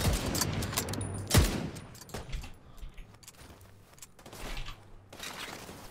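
Gunfire in The Division 2, with a sharp burst of shots near the start followed by scattered bursts of weapon fire and game noise. No one speaks over it.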